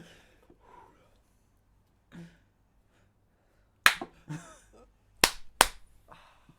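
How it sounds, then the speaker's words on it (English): Two podcast hosts give a few sharp hand claps as their show intro, loud and close, preceded by quiet murmured talk and then a cluster of crisp snaps near the end. "You can do the clap."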